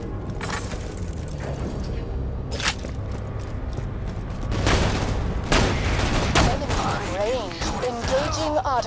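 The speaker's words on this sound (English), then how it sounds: "Engaging auto cannons." Rapid bursts of heavy automatic cannon fire in Borderlands 2, booming and mechanical over continuous battle noise, with brief voices in the mix.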